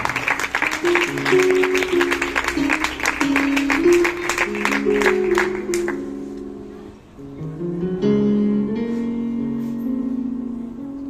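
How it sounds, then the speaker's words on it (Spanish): A church congregation claps in steady rhythm for several seconds over loud music and singing voices; the clapping fades after midway while the music carries on. "Dale un aplauso al Señor"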